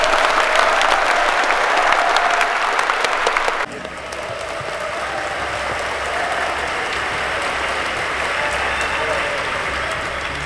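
An audience applauds, dense steady clapping that drops suddenly in level partway through and carries on more softly, with faint voices beneath.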